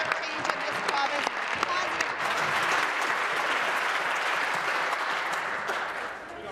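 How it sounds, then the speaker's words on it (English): Loud, sustained applause from a large group fills a legislative chamber, dense clapping continuing steadily throughout with faint voices mixed in. "Couldn't hear the Deputy Premier for the volume of the applause."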